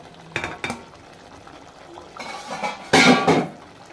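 Fried chicken pieces are tipped into a hot pan and stirred, giving a few metallic clinks and scrapes of a utensil against the pan, then a louder clattering burst of mixing near the end.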